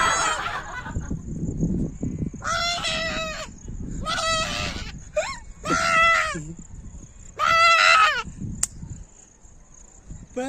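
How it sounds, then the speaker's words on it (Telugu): A goat on a mountainside bleats in several loud, wavering calls spaced a second or two apart, close by, with quiet outdoor background between cries. "వీడు చూడండి, ఇది ఒక మేక."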